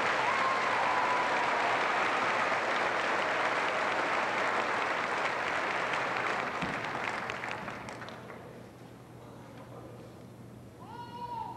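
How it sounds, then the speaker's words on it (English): Audience applause at a 1997 high school graduation ceremony, a full, sustained roll of clapping that thins and fades after about seven seconds, leaving quiet room noise and a brief voice at the end. "Let's give these people a round of applause."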